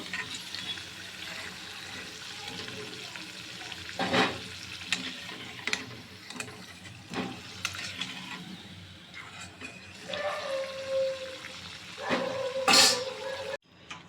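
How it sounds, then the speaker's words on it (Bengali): Whole cumin, garam masala and bay leaf crackle and sizzle in hot oil for a chicken and spinach curry, a steady close frying hiss with scattered pops and stirring clatter, no talking. "তো এখন সেই তেলে আমি একটু গোটা জিরা, গরম মশলা, একটু তেজপাতা দিয়ে দিয়েছি।"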